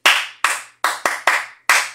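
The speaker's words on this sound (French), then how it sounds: "Applaudissez pour elle." Six short, sharp bursts of audience clapping, each swelling and fading quickly, cheer on a woman honored for offering sewing training after university, loud and with no voices.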